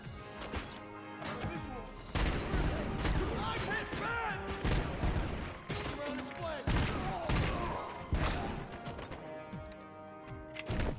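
Gunfire in RoboCop: Rogue City, dense rapid bursts of shots mixed with impacts, crashes and debris, loud and nearly continuous, with a voice talking briefly over the action.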